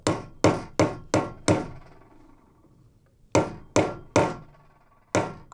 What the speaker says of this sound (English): Then take your hammer and you can proceed.